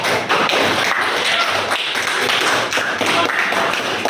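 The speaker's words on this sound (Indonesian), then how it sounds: "Tepuk tangan untuk Dila ya" A classroom of students clapping for a classmate, dense steady applause filling the whole stretch, loud and close with no talking.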